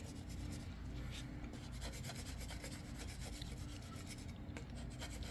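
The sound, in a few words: plastic scraper scraping old gunk off a Pattern 14 rifle stock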